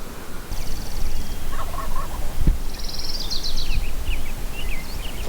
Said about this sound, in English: There's freaking birds everywhere.